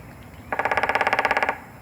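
A red-bellied woodpecker drums once, a single rapid even roll of about a second of tapping, sharp and fairly close against a quiet background.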